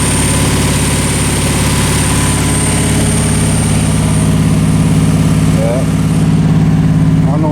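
A Nissan 300ZX engine runs at a loud, steady idle right up close after being restarted on a jump, with a brief voice heard over the humming rumble.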